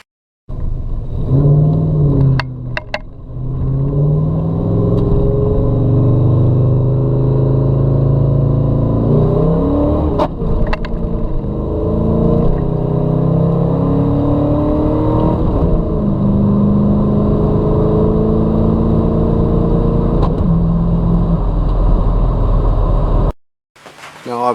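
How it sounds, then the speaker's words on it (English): Chevy S10 truck engine with a new transmission revving hard, a loud rumbling note climbing and shifting repeatedly in pitch, close and steady, then cutting off abruptly near the end. "I wanted to open it up once just to kind of see what it would do, and the transmission says no, it don't like that"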